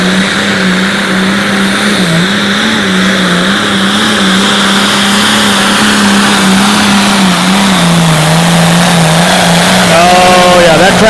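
A light limited pro stock pulling tractor at an outdoor tractor pull in Concord, Nebraska roars loud and continuous, its engine note wavering as it strains and revs, with a rising whine near the end.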